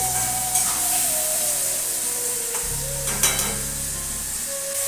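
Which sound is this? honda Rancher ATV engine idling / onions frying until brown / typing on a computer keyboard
onions frying until brown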